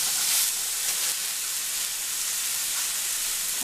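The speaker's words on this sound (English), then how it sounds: "When you hear that sizzle, that means it's going to give it a nice sear." Steady broadband hiss of pork tenderloin sizzling in a hot cast iron skillet, continuous and fairly close, with no voices.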